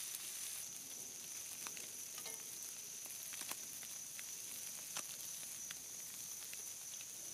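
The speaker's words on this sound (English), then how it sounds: "Within a minute, it's sizzling." Seasoned canned sardines frying in a cast iron pan on a Coleman butane stove, a steady faint sizzle and hiss with occasional small pops and crackles, no talking.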